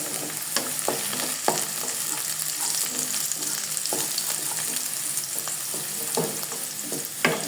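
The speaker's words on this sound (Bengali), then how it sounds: "একটু ভালো করে ভাজা ভাজা করে নেব। হালকা ভাজা ভাজা হবে না, একটু নাড়াচাড়া করে নেব।" Chopped chilli sizzles and fries in a pan of hot oil, with a steady crackling hiss broken by repeated scraping clinks of a spatula stirring, close and fairly loud.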